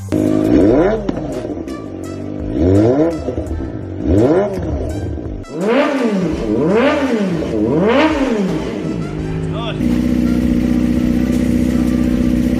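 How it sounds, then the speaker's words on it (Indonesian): A motorcycle with a short stainless steel 304 aftermarket exhaust and 50–51 mm inlet revs repeatedly, close and loud, in rising and falling blips before settling into a steady, raspy idle. "knalpot bakal bacot banget dah, karena ukurannya tuh bener-bener pendek dengan inlet 50 sampai 51 mm"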